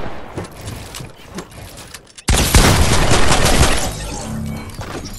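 Video game shooter gunfire: a sudden loud burst of rapid shots crashes in after quieter scattered sounds and keeps going steadily, close and dominant.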